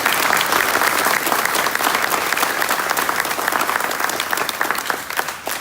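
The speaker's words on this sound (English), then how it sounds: "So if you can give them a very big round of applause." Dense, steady applause from a school concert audience fills the space, many hands clapping loudly and continuously with no break.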